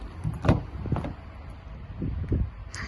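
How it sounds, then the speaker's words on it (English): A Mazda CX-5 2.0 SKYACTIV-G unlocks with keyless entry: a few short, close mechanical clunks and clicks from the door locks, spaced over about three seconds with a faint chirp near the end, with no talk. "This car does have keyless entry as well, so you can just unlock the vehicle like so."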